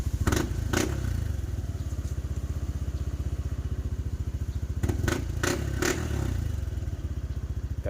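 Yamaha NMAX V2 scooter engine running close by with a steady rapid pulse, interrupted by a few sharp clacks and thumps.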